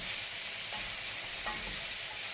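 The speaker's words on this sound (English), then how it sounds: "Now we're just going to fry these, get these onions nice and soft." Onions frying softly in a pan for a Moroccan spiced vegetable soup, giving a steady close sizzle with a couple of light stirring scrapes.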